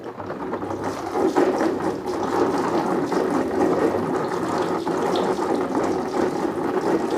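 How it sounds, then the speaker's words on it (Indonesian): Water splashes and streams continuously over a screen-printing stencil for an umbrella print, a steady rushing wash with faint clicking and rattling underneath. "Kita basahi, kita siram dengan air sama teman-teman, dari belakang, dari depan."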